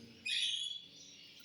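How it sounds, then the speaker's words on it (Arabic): Canaries in a breeding setup giving a brief high chirp or trill, faint and short over a quiet background, with no voices. "طيور بطريقة السلاكة الفلت"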